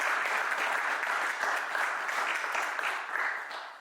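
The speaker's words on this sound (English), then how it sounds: "everybody give him a round of applause" An audience at a community gathering gives a warm round of applause, a full steady burst of clapping that holds for a few seconds before tapering off near the end.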